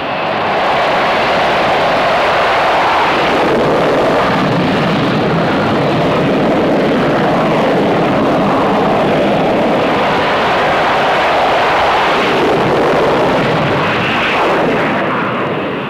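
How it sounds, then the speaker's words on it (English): A loud, sustained jet roar fills the air, swelling and surging in waves as 20-ton aircraft power up and launch from an aircraft carrier nearby. "20 tons of aircraft reach flying speed in 2 seconds flat"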